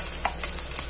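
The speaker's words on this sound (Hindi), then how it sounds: "एक पैन में मैंने तेल गरम कर लिया है, उसमें हम हरी मिर्च डाल देंगे" Green chillies frying in hot oil in a pan, giving a steady close sizzle with a few brief crackling pops over one second, with no voices.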